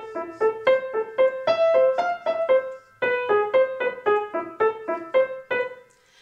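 Piano playing the tune of The Wild Horseman with the right hand alone, a lively sequence of clear, detached notes with a short pause midway, heard solo and close.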